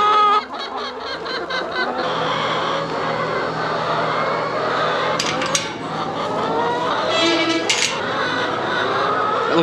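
Chickens in a farm coop or yard, clucking and squawking steadily and close by throughout, with several birds overlapping in a busy, continuous chatter.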